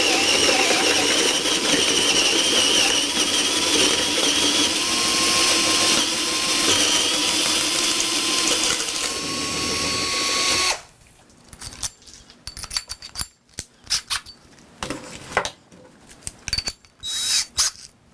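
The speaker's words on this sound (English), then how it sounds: "I'll drill 1 hole with the Milwaukee" A Milwaukee drill with a hole saw cuts through 3/4 inch plywood in one long, loud, continuous grinding whine of about ten seconds, then stops, leaving scattered handling clatter.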